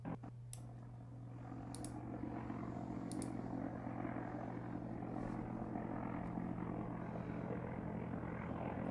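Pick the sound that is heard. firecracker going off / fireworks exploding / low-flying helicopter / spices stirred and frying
low-flying helicopter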